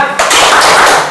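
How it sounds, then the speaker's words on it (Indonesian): A group of students claps together in a classroom spirit cheer, a dense, loud burst of hand claps that swells for about a second. "Tepuk semangat."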